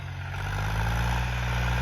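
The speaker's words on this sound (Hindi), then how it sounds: "ट्रैक्टर की आवाज़ बताओ मेरे भाइयों।" Mahindra 265 DI tractor engine running after a recent service, a steady low diesel idle with strong even rumble, close and continuous, no voices.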